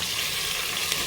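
Ginger garlic paste frying in a pan gives a steady close sizzle and crackle throughout, with no talking over it.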